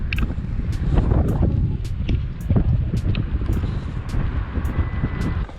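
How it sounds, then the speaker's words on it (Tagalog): Coastal wind blowing at Mugu Rock on the California shore, a constant rushing roar that buffets the microphone, with faint sharp clicks repeating over it and no voices. "Sarap ng hangin, guys."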